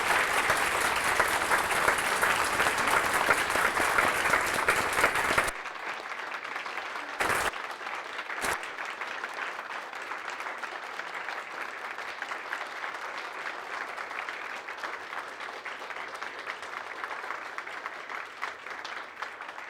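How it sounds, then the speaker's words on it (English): An audience applauds at the introduction of a bishop-elect, loud clapping that drops to a softer, steady level after about five seconds and carries on to the end of the clip. "if we could just have one more round of applause for these very historic"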